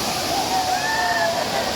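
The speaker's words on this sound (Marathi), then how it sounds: "आणि धबधबो 1 नंबर बघा 1 नंबर धबधबा बघा." Waterfall in a rocky area, a steady loud rush of falling water filling the whole moment, with faint whistling tones and people's voices mixed into the roar.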